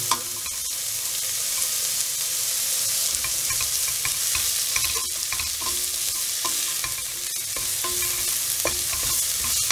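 Cabbage and other vegetables for chicken fried rice sizzle loudly in a hot pan while a spatula stirs and scrapes with irregular clinks, close and continuous, with no talk.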